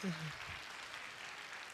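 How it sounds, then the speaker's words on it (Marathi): An audience claps for a children's play at a school annual gathering, a steady broad wash of applause that stays even and moderately loud throughout, with a brief low voice near the start. "जोरदार टाळ्या वाजवूया त्या नाटिकेसाठी"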